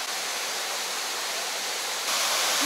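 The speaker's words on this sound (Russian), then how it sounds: "Водопад." A waterfall in the Balchik botanical garden gives off a close, steady hiss of falling water that swells slightly louder near the end, with no voices.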